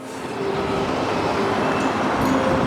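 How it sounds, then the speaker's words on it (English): Trains rumbling past on CSX tracks in Atlanta, a continuous loud roar of rolling wheels and rail noise that holds steady and swells slightly toward the end, with faint tonal squeals over it. "there is always just a random rush of trains passing by"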